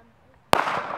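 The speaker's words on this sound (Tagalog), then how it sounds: "Eman, putok na ulit." A single loud firecracker bang goes off abruptly after half a second of near silence, followed by a sustained crackling, smoky rumble that lingers to the end.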